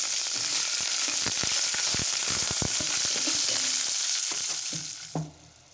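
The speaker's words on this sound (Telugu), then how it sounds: "ఇప్పుడు కరివేపాకు వేసుకుందాం." Curry leaves crackle in hot oil with fried red chillies, a loud dense sizzle studded with rapid sharp pops, ending in a clatter before dropping off abruptly.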